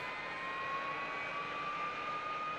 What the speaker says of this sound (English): I always hear somebody else starting up. That might be the Harrier that escorts you.